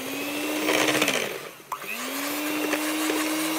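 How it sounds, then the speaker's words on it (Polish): Electric hand mixer whirring through carrot cake batter with cinnamon, a steady close motor hum that dips and slows briefly midway, then spins back up to an even drone. "Teraz całość miksujemy i będziemy stopniowo dodawać mąkę."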